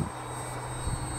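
An FMS SuperEZ V3 radio-controlled plane flies overhead, giving off a brief, even electric whine with a thin high tone held steady at moderate loudness.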